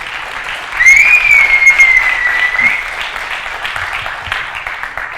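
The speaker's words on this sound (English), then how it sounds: "So please give a round of applause for Florian and Merlin." Applause from a conference audience at the UI5con 2023 developer event welcomes two speakers, a loud sustained crowd clapping that rises and then fades slowly, with a single whistle cutting through near the start.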